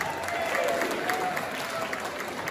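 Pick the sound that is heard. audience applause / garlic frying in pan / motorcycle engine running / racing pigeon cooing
audience applause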